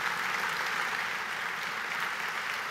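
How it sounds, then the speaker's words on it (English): Warm applause at a fiftieth-anniversary gala for an introduced honoree: dense, even clapping from a large room, steady and moderately loud throughout, with no voices over it. "please give a warm round of applause to a man who is a leader"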